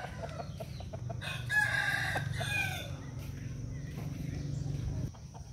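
A fighting rooster crows at a Vietnamese gamecock farm, one loud drawn-out crow rising and holding mid-clip over steady low clucking and farmyard background noise.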